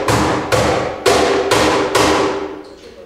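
Five sharp slap strokes on a cajon, the palm dropping onto the edge of the wooden box, struck at an even pace. Each is a loud, bright crack that rings briefly and decays before the next.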